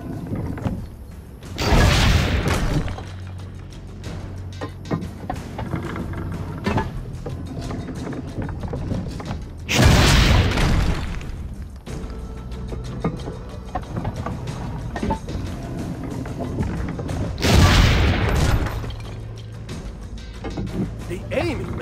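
Cannon fire in the video game Assassin's Creed: Brotherhood, with three loud booming blasts spaced several seconds apart over steady background noise and music.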